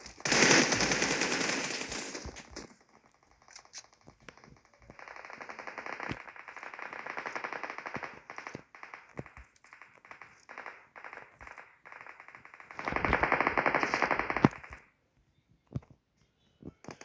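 Bursts of automatic gunfire from the PUBG Mobile battle royale game, with a loud sustained volley at the start, scattered shots and short rattling bursts through the middle, and another heavy burst near the end, with brief talk mixed in.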